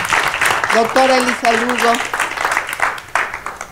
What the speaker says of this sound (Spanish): Un aplauso para todos, por favor.